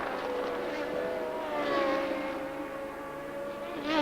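Formula 1 racing cars at the 1982 Belgian Grand Prix accelerating away, a continuous high engine whine rising and falling as the cars pass, heard at moderate distance from the circuit.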